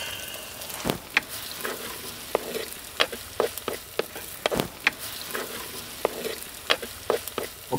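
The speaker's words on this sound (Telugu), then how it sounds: "ఉల్లిపాయ ముక్కలు కలర్ మారాక టమాటా పేస్ట్ వేసుకుని ఒకసారి అలా కలుపుకొని ఒక అరచెంచా పసుపు కూడా వేసుకుని కలుపుకుందాం" Onions with tomato paste and turmeric sizzle in a pan for restaurant-style palak paneer, as a spoon stirs with frequent sharp scrapes and taps in an irregular rhythm, close and without voices.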